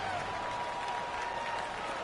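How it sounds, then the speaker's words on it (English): Stadium crowd roaring and applauding in an American football video game ahead of a big third down, a dense continuous wash of cheering held at an even level throughout. "the crowd getting into it as we come up on a big 3rd down"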